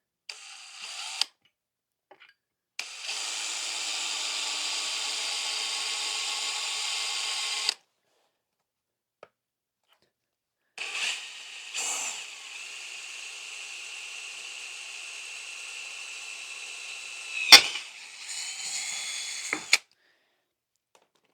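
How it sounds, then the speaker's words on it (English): A power drill whirs in long steady bursts, drilling four holes in a dovetail saddle mount, pausing between runs, with a few short sharp clicks and knocks as the bit works through material. "So what I'm doing is I'm just drilling 4 holes."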